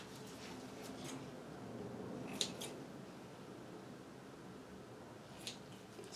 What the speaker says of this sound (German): Ich schneide mir noch kurz einen Faden zu.